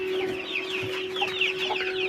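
A broody hen clucks repeatedly in short, agitated bursts near chicks, fairly close, over a steady low hum with other birds faintly chirping in the background.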